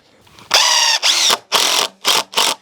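A power drill drives screws into a wooden concrete form for a shed, five loud close whirring bursts of about half a second each, separated by short pauses.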